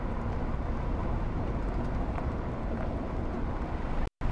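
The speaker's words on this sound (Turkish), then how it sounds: "Arabanın sesleri sizi rahatsız etmesin" Continuous car engine hum from the Tiny House Simulator video game, an even, loud low rumble throughout with one short dropout near the end and no voices.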